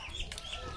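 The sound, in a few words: duck quacking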